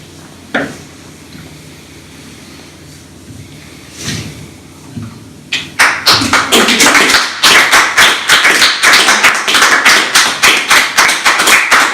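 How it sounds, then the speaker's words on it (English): Audience applause at a live storytelling and song performance, starting after a few scattered taps and swelling into steady, dense clapping that fills the room for the second half. "Can we keep clapping?"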